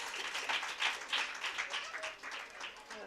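Audience applause at an International Women's Day gathering: steady, dense clapping from a crowd, moderately close and continuous, with no voices over it.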